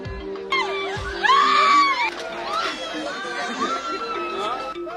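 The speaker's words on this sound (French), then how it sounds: "Des scènes de transe, un peu partout dans la foule, des cris stridents." Shrill screams rise from a crowd caught in trance at a healing sect gathering in Burkina Faso, with piercing high wails over a dense murmur of chatter and voices.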